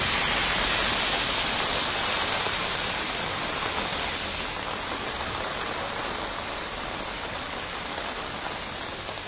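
Heavy rain falls steadily, a dense, loud hiss of drops pouring on surfaces without letup for the whole stretch, with no voices over it.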